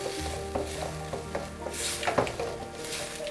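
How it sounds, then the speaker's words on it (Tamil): Tomatoes sauté in hot ghee for a lemon ginger rasam, with a soft close sizzle under repeated scrapes and taps of a spoon stirring the pan. "இந்த நெய்யிலே இந்த தக்காளி நல்லா வதங்கணும்"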